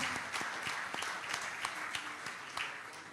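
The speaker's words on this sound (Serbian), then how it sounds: "molim vas za veliki aplauz za ova dva momka" An audience at a book launch for a Partizan basketball club book applauds, a short, dense burst of clapping heard at moderate distance, with faint speech underneath.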